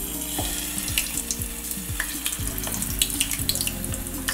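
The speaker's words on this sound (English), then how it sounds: "Okay, so now I'm just gonna fry it." Food frying in hot oil, spooned in and dropped carefully, gives a steady close sizzle with crackling bursts and a faint watery hiss throughout, no voices present.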